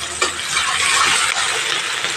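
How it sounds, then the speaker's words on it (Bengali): Chopped onions sizzling and frying in hot oil in a pan for a kolmi shak and potato bhaja, a steady close, fairly loud hiss with a few light clinks near the start. "এবার এখানে আমি কুচানো পেঁয়াজগুলো দিয়ে দিলাম।"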